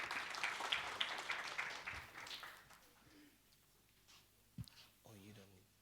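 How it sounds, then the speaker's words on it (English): Clapping from the audience at a national ICT summit breaks out loudly for the first couple of seconds, then thins to scattered claps. A voice speaks near a microphone as it fades. "round of applause for the guys."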